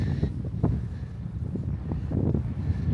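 Strong wind buffets a camera microphone on a coastal headland at Woody Head on the Isle of Wight, a continuous low rumbling roar with gusty surges throughout.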